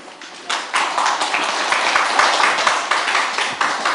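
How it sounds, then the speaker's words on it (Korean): Audience applause at a Korean political forum, a burst of clapping from a seated crowd that starts abruptly and continues steadily, with dense overlapping hand claps. "박수 좀 쳐주십시오"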